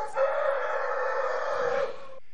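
A rooster gives a single loud, drawn-out crow lasting about two seconds on a farm, close and clear with no talk.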